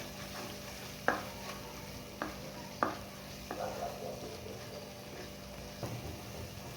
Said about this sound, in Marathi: सतत हलवत राहायचं आहे अजून थोडा वेळ आपला मसाला आपण असाच परतत ठेवायचा आहे